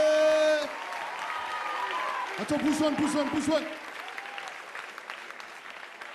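Audience applause for a locking dance crew, steady clapping from a crowd that runs through the whole stretch, with someone talking loudly over it in the middle and some vocal chanting.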